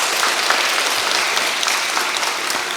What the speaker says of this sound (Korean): 우리 앞에서 고생하는 성가대에게 다시 한번 박수로 우리 인사하실까요?